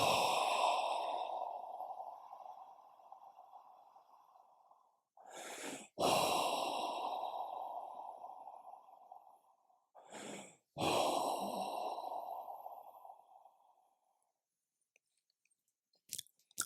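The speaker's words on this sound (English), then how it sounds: "Take 3 deep breaths" Three slow, deep breaths during a guided meditation at a retreat, each a long, audible exhale trailing off, separated by quick inhales, close and clear, with silence following.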